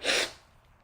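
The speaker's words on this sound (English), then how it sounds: "I'm going to sneeze even" A single short, breathy sneeze, close and fairly quiet, fading into soft breathing.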